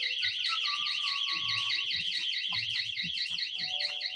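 A smart-sensor home security alarm, set off when a door sensor opens, sounds a loud, continuous warbling electronic tone with a rapid repeating pitch cycle and no pauses.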